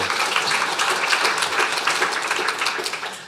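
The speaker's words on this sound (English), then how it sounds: "Galway deserves a round of applause for such a wonderful turnout, so give it up for Galway." A conference audience at an opening welcome in Galway breaks into sustained applause, a dense moderate-level wash of many hands clapping throughout, with no speech over it.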